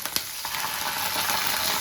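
Chilli sauce and ginger-garlic paste sizzle steadily in a hot pan while gobi manchurian is being cooked, a continuous close crackle with a brief stir clatter near the start and no talking.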